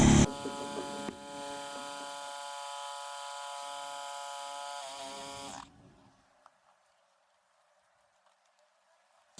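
A battery-powered lithium-ion electric inflation pump drones steadily and loudly with a buzzing motor tone for about five seconds, then cuts off, leaving near silence with a few faint clicks.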